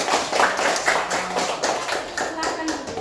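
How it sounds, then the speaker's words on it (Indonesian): A classroom of Indonesian schoolchildren claps together during a civics lesson. The clapping is dense and ongoing, with children's voices talking and calling out over it. "Oke, tepuk tangan untuk kita semua."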